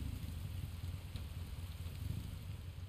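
Steady rain in the video game Resident Evil 2 (2019), a dense continuous hiss with a low rumbling undertone, holding at an even level throughout with no speech.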